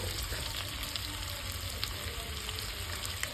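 Ground spices with salt sizzling steadily in a hot pan while being fried down, a continuous close crackling hiss with no talk.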